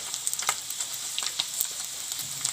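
Paneer pieces frying in hot oil in a pan, with a steady soft sizzle and small crackling pops throughout, close and moderately quiet, no talking.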